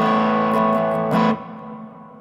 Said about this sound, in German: Und ich habe einen normalen Hall.